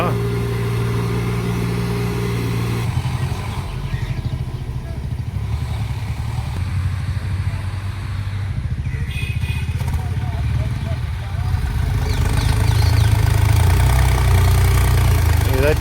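A tractor pulling a trolley loaded with paddy to the grain market keeps up a steady low engine drone, loud and close, under ongoing talk.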